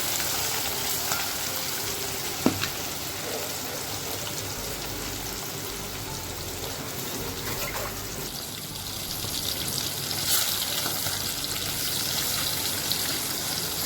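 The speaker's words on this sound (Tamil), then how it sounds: "இந்தளவு ஹீட்டாக இருந்தால் நல்லா ஃப்ரை ஆகும்." Food frying in hot oil in a home kitchen, a continuous dense sizzle and crackle that holds steady and close, with one sharp tap near the start and a faint clink later.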